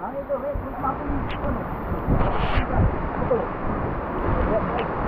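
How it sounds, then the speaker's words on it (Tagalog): Strong wind buffets the microphone with a steady low roar, gusting louder midway, while people talk faintly beneath it. "Grabe yung hangin"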